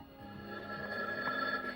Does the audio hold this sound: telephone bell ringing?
yes